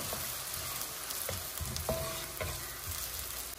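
Onion pieces drop into hot oil and fry with a steady close sizzle, a few louder crackling bursts and stirring scrapes over the bubbling, with no voices.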